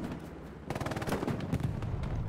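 Gunfire in the Hell Let Loose video game on Omaha Beach, a quiet stretch before rapid automatic bursts of shots crackle loudly and continuously through the rest of the moment.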